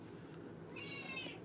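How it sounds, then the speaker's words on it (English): A cat meows once, a fairly faint, drawn-out call rising over steady room noise partway through. "The cat making noises."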